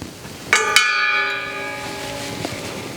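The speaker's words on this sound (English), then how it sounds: "as I play the gong" A gong is struck twice in quick succession, ringing out with a bright metallic shimmer that decays slowly, followed by a faint tap near the end.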